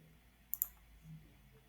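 Two quick, faint computer mouse clicks, close together, as an OK button is pressed in business software, in an otherwise quiet setting.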